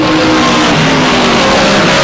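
Loud, dense engine roar of stock-style race cars speeding around a short oval track, several overlapping engines droning and shifting pitch as the pack passes close by, with no voices over it.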